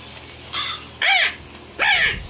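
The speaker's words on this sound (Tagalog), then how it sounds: "Uwak yan. Ayan o, crow." Two loud, close crow caws, each a harsh drawn-out call, preceded by a fainter caw, heard alone outdoors.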